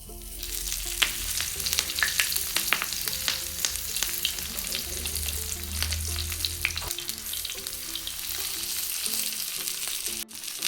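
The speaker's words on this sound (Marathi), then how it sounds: "आता हे केळीच्या पाण्यात जे रॅप केलेलं आहे ते टाकून घेते" Banana-leaf-wrapped fish fries on a griddle with a continuous crackling sizzle, close and steady, while a faint melody plays underneath.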